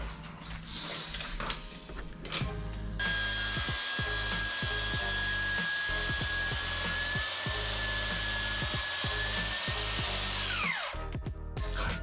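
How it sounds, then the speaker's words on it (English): A power saw cuts a solid oak worktop to length in a workshop, a loud sustained whine over rhythmic cutting and rubbing noise that winds down at the end. "we cut off a suitable length and trimmed to size"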